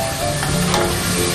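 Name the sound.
sautéing blended spice paste with candlenut in oil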